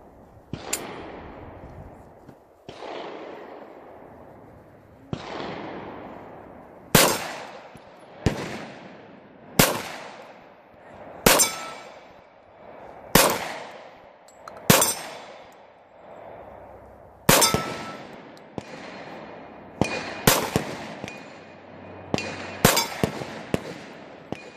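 A 1911 Gold Cup National Match pistol firing about a dozen loud, sharp gunshots. They come at a steady, unhurried pace, each with a ringing decay, and the later shots follow closer together.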